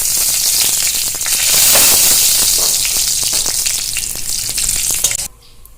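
Whole spices crackle and sizzle loudly in hot oil in a pan, a steady dense frying hiss with sharp pops throughout, for mutton kosha, cutting off abruptly near the end.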